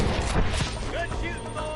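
Gunshots crack out in Red Dead Redemption, a western shooter on PS5, with a cluster of sharp reports early on, then game ambience and voices.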